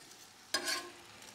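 Bacon sizzles in butter and grease on a hot surface, a sharp hiss flaring up briefly as it is stirred, then settling back to a low, close crackle with no talking.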